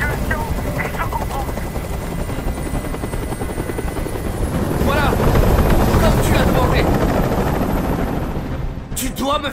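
A helicopter hovers close overhead in the video game Detroit: Become Human, its dense rotor chop loud and constant, swelling louder midway and dropping away at the end.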